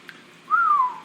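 A single clear whistle, attributed to Bigfoot in a recording, rises quickly, holds, then slides gently downward over about half a second against a quiet, hissy background.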